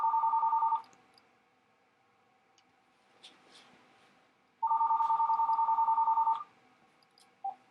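A telephone call rings out on the line: two loud, even ring bursts separated by a few seconds of near silence, with faint clicks in between.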